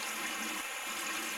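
Water sprays into buckets in the Fireman Sam Fire & Rescue mobile game, a steady hissing pour with slight surges that runs continuously through the short stretch with no voices.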